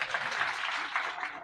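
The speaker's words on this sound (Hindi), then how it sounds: "जोरदार तालियां भाई" Applause from a group of students fills a brief burst, a dense, even patter of clapping that holds steady and then fades slightly, with no voices over it.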